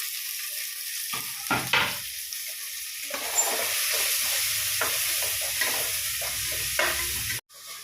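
Finely chopped onions with ginger and garlic sizzle steadily in a hot pan for a Christmas egg stew, with a few sharp stirring scrapes over the hiss. No voices are heard.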